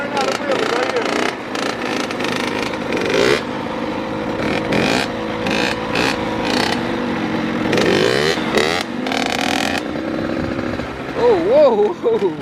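Two-stroke dirt bikes rev hard in first gear for wheelies, with repeated sharp, buzzy throttle bursts rising and falling close by while people talk over them.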